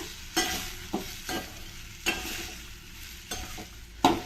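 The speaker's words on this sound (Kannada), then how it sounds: "ಈಗ ಇದನ್ನೆಲ್ಲ ಎಣ್ಣೆಯಲ್ಲಿ ಚೆನ್ನಾಗಿ ಫ್ರೈ ಮಾಡ್ಕೋಬೇಕು" Peas curry gravy ingredients with roasted gram are stir-fried in hot oil, a soft steady sizzle broken by about six distinct scraping strokes of a spatula against the pan.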